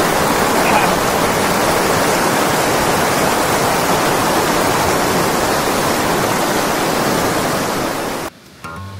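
A river flows beside a campsite in Ranca Cangkuang, Gambung, Ciwidey, its loud, steady rushing roar filling the air almost without pause before dropping away sharply at the very end.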